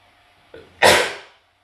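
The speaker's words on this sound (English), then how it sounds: "I'm gonna sneeze" A single close sneeze: a brief intake followed by a loud, bursting expulsion that fades quickly into silence.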